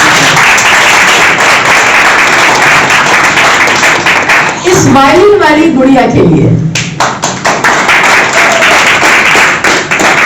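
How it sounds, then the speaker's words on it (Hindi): An audience at a music event gives loud, sustained applause for a young girl violinist. The clapping runs continuously while someone speaks over it midway, then carries on strongly to the end. "अब एक डेडिकेटेड ताली जोरदार"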